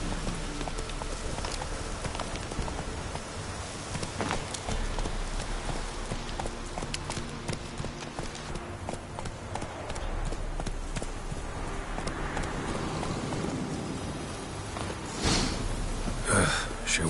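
Roach, Geralt's horse in The Witcher 3, moves with steady rhythmic clip-clop hoofbeats close by, accompanied by snorts and heavy breathing, a louder burst near the end.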